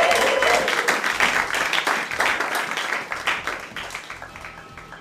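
A church congregation applauding together: dense, continuous clapping from many hands that starts full and gradually thins and fades over a few seconds.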